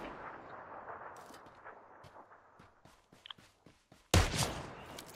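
Gunfire rings out in the PUBG Lite battle-royale game on the Miramar desert map, scattered distant shots and footsteps followed by a sudden loud close blast near the end.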